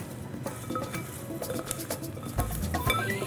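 Fries are tossed in a bowl with nutritional yeast and salt, giving soft scraping and light clinking taps that come in a few short bursts, closer and louder near the end.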